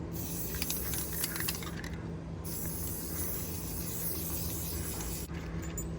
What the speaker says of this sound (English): We're gonna run out of spray paint here pretty soon.